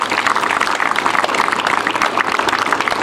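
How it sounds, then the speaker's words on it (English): A church congregation claps in a dense, continuous burst of applause, loud and close, with no talking over it. "Clap for Jesus Christ."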